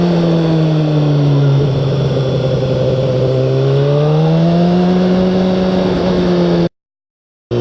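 A motorcycle rides a gravel-strewn canyon road at night; its engine drones loudly and steadily up close, the pitch dipping and then climbing as it rolls on, before cutting to silence near the end.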